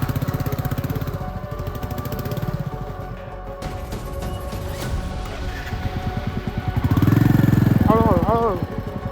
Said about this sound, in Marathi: कमॉन पहिला गेअर फुल रेस.